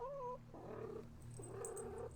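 A cat meows twice near a big old tree outdoors, two drawn-out, wavering calls close to the listener with a short gap between them and a steady low background hum.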